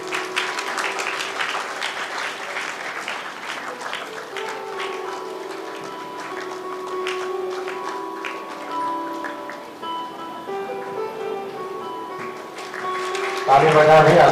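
Crowd keeps clapping at a Good Friday prize-giving event, a continuous, even patter of many hands through most of the stretch, thinning in the middle before a brief louder burst at the end; a voice may talk over it.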